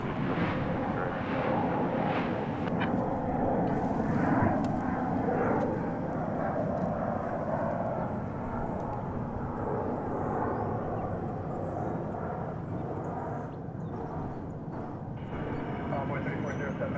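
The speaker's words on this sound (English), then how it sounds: "Next out is a flight to San Francisco," An airliner departing DFW Airport on a flight to San Francisco gives a continuous, broad engine roar lasting the whole stretch, with faint voices underneath.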